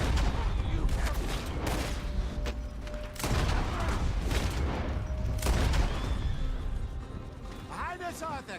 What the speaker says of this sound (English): Well, shoot them then.